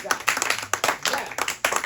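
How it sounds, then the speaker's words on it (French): A church congregation claps in a quick, dense burst of broadband hand claps, fairly close and lively, running steadily with a few louder peaks throughout. "Mais applaudissez."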